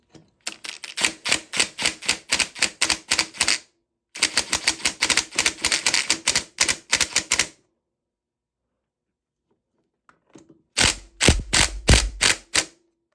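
A nut is tightened on a 1974 Honda MT250 engine, likely with a ratchet giving rapid, close, crisp clicks. Two long runs come in quick succession, then a pause and a final short burst.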